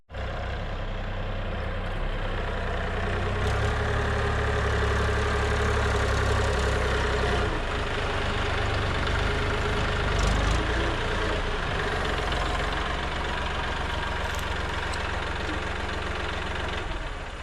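A farm vehicle engine runs steadily and loudly throughout while driving out to an alfalfa field, a continuous low rumbling drone with no talk over it.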